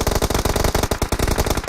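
Rapid automatic gunfire in PUBG Mobile, a loud continuous burst of tightly spaced shots hammering close by for the whole stretch without a break.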